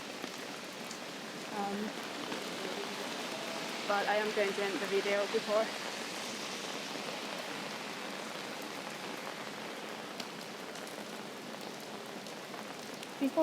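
Heavy rain pours steadily throughout, a constant hiss of drops on surfaces along a city street, while a person speaks briefly over it.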